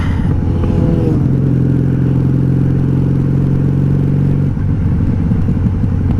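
Motorcycles ride a highway past a 1997 Honda Magna VF750C, a loud, steady engine drone with a humming tone that holds for several seconds, then cuts off into rushing wind noise.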